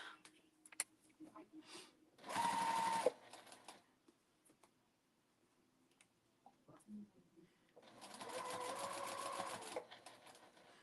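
Sewing machine stitching fabric for a memory bear, two sustained whirring runs of a few seconds each separated by quiet handling noises and faint clicks, close and fairly loud.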